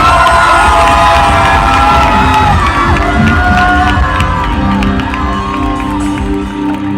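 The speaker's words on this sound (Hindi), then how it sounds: "सिस्टर ब्यूटी के लिए भी जोरदार ताली बजाए" A large crowd at an outdoor Christian festival on a school ground in Ranchi cheers and claps loudly, with shouts, whoops and high voices rising over a continuous roar of clapping.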